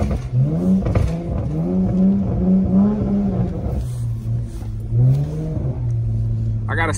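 A GT car revs while driving through snow, its engine note climbing and falling in repeated throttle blips and then holding a steadier drone, close and loud, with a voice talking over it.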